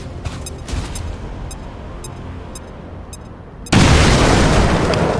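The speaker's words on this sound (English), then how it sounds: "I want to throw a frag" Frag grenade blast in the game XCOM 2: War of the Chosen, a sudden loud explosion hitting late after quieter ambient game sounds and light clicks, its roar sustained to the end.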